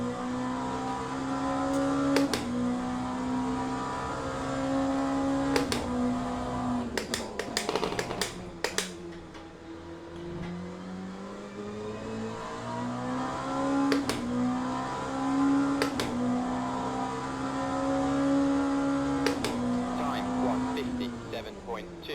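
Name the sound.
race car engine in Le Mans Ultimate video game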